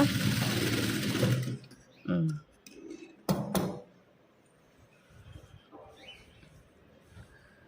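A domestic sewing machine runs close and loud while stitching a puff sleeve on a girl's frock, then stops. Brief handling clatter and a few scattered knocks follow, with a soft voice faintly in the background.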